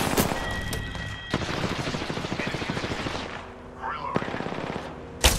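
Rapid automatic gunfire bursts loudly in a ranked Apex Legends match on Xbox, with dense volleys of shots and a couple of sharp louder cracks near the end.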